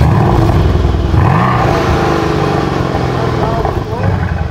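A 1300-horsepower supercar engine revs and burbles through its exhaust, loud and close, with rising rev sweeps over a rumbling idle while people talk over it.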